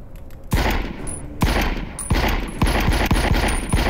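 Several loud gunshots in the VR shooter The Light Brigade, sharp close reports arriving in an uneven rhythm, spaced at first and then quicker, with no talking.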